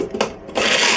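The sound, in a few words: shaking a closed container of mock turkey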